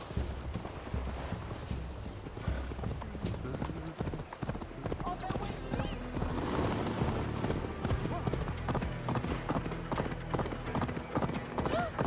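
Rapid clip-clop of a horse galloping steadily in Assassin's Creed Valhalla, with occasional whinnies, layered under game music and a voice talking throughout.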